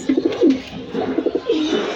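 Domestic pigeons coo close by in a nesting coop, with several soft, rolling low calls that repeat in short bursts and have no voices over them.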